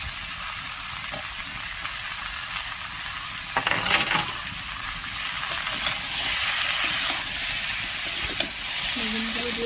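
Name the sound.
eggplant pieces frying in a pan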